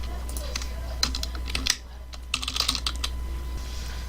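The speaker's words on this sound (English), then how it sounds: "So you just type in your username that you want to use, password" Someone types a username and password on a computer keyboard, giving quick irregular clicks close to the microphone with a short pause partway through over a low steady hum.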